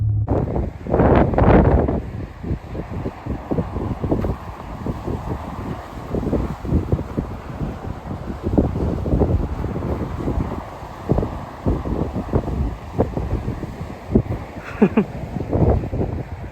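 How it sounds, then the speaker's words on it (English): Strong wind roars and buffets steadily, with gusty rumbling bursts throughout and no talking. "It's windy, not rainy though"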